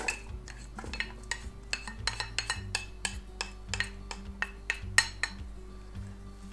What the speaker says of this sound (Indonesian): Setelah itu kita masukkan ke panci,